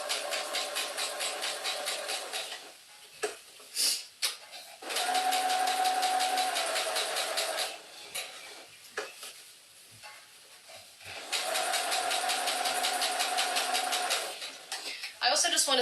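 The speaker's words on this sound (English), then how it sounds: "I'm going to start sewing there." A sewing machine stitches gathers into a Charlotte dress sleeve seam, running in a few steady bursts of several seconds with short pauses between, close and fairly loud, with a little handling noise in the gaps.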